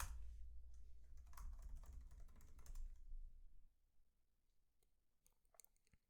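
Keys clatter on a computer keyboard as a terminal command is typed, a quick run of soft taps followed by a few sparse clicks, close and quiet with no talking.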